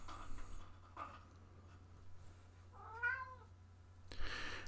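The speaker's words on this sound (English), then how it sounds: "What's that cat doing?" A cat gives a single faint, rising meow partway through, set against a quiet, humming indoor background.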